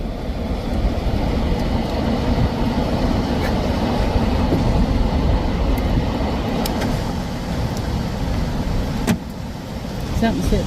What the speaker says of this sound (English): Something's hitting the car. I think it's only branches, small branches. Wow, it's shaking the car.